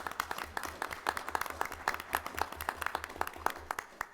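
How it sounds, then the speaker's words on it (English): Scattered clapping from a small audience at a school board of education meeting, a steady patter of individual claps over a low background hum, moderately faint. "congratulate Mr. Holliday with a round of applause"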